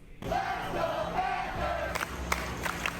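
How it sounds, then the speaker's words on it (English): A crowd of Florida Panthers fans at an outdoor watch party in Fort Lauderdale roars in a sustained cheer, with a few sharp whoops and shouts rising above the steady crowd noise. "there's an official watch party for fans to come together and cheer on the Cats"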